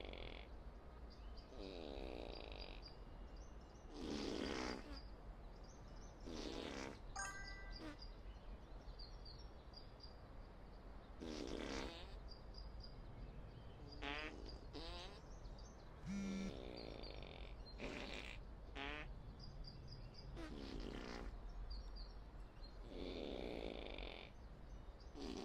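Cartoonish farting noises from the video game Schedule 1, a long run of repeated blats and buzzy squelches coming in uneven bursts over a steady low background hum, with no talking.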